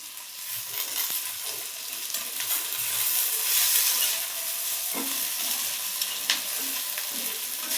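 Dried red chilies frying in a pan, a soft steady sizzle with occasional stirring scrapes and light clinks of a utensil, close and moderately quiet, no talking.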